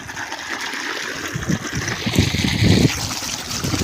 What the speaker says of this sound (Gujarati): પાણી ચાલુ થઈ ગયું જુઓ